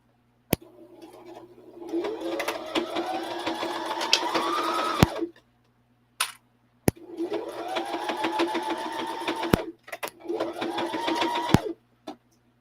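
A sewing machine stitches fabric in three close, steady runs of a few seconds each, its whirring motor speeding up at the start of each run, separated by sharp clicks and brief pauses.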